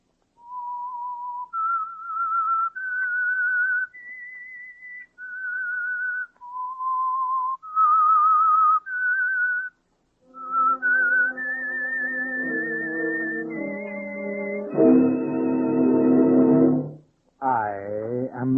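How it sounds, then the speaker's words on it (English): A man whistles a slow melody alone, clear sustained notes, then a low orchestral chord swells in beneath the final phrase. "That whistle is your signal for the Signal Oil Program"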